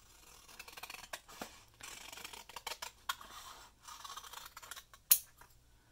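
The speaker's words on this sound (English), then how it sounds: "I'm going to do the same sort of wiggly cuts, but I'm going to cut them horizontally." Scissors snip wiggly horizontal cuts through paper for a weaving project, a close series of soft, irregular crisp snips and rustles, fairly quiet and without speech.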